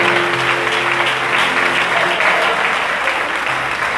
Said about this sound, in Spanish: Y le damos palmas a Cristo Jesús.